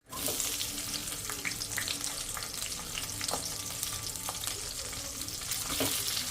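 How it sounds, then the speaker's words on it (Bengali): Onion and capsicum fry in hot oil in a home kitchen for a chili chicken, giving a loud, continuous sizzle with a few sharp crackles and light stirring clatter throughout. "পেঁয়াজ আর ক্যাপসিকামটা প্রথমে ভেজে নিতে হবে"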